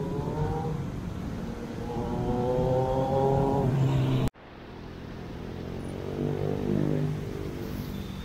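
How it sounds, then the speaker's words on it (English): Cars driving past, each a rising and falling engine whoosh that swells close and then fades, one after another with a brief cut in the middle, and no talk. "Lot of cars too."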